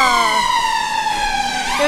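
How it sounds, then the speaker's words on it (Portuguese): An ambulance siren wails loud and close on a London street, its rising and falling tone sweeping continuously as it passes. "Finalmente uma ambulância!"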